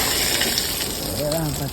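Rainwater after a downpour gushes and pours steadily over a barrier, a loud continuous rushing wash with a brief tonal, voice-like sound near the end.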